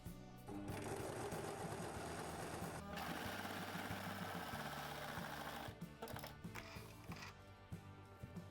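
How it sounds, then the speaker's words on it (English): Sewing machine stitching a seam on a fabric gimbal case, a fast, steady mechanical whirring close by that runs continuously, briefly easing off and picking up again near the end. "I'm going to sew a second one right on top"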